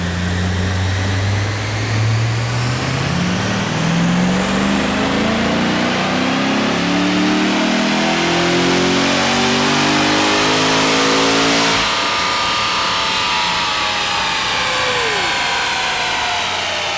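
A straight-piped, titanium-exhaust 700 hp Corvette C6 Z06 V8 roars through a dyno pull, its loud, close engine note rising steadily in pitch for about twelve seconds before lifting off and dropping away.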